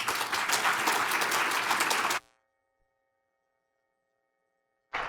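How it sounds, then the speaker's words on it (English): Audience at an academic talk on neuroscience and AI applauding a speaker, a dense burst of clapping for about two seconds that stops abruptly, followed by silence. "I'd like a round of applause for Dan Yamins."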